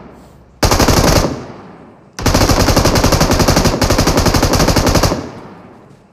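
Sustained M249 light machine gun fire in PUBG Mobile, loud and close: a short burst, a pause, then a long continuous rattling volley that tails off.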